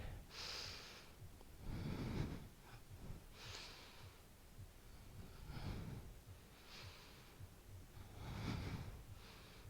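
Slow yoga breathing, about three rounds of long inhalations and exhalations with a nasal, airy rush, close and soft, each breath swelling and fading.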